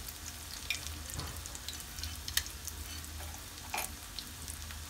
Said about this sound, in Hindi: बस एक साइड हमारी शामी कबाब की पक चुकी है, हमने दूसरी साइड चेंज कर ली है।